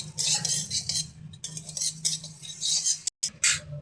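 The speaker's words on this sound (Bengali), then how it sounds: "খালি খোলায় ভালো করে ভেজে নেব" Cumin dry-roasts in an empty pan while a metal spatula keeps scraping and stirring it. Close, rhythmic scrapes and clinks repeat, with no talking.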